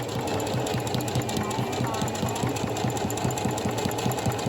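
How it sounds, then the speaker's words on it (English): A sewing machine stitches ribbon along the edge of a tutu, its needle chattering in a fast, even rhythm of close, repeated mechanical beats over a steady motor hum. "And then I'm gonna stitch all the way along the edge."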